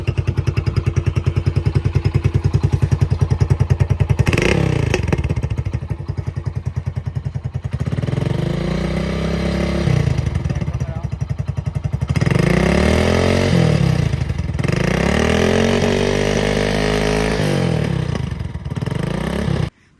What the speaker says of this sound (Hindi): तो ये थी भाई सलेंसर की आवाज़।